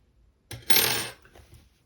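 Steel scissors snip through crochet yarn at the end of a finished crop top sleeve: one short, close, crisp cut in a quiet room.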